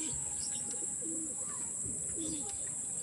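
A grizzle racing pigeon coos softly among other bird chirps outdoors, faint low warbling calls repeating over a steady high insect-like hiss.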